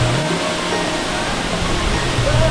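Katiki waterfall near Araku sends out a steady, loud rush of falling water, an even broadband roar that does not let up.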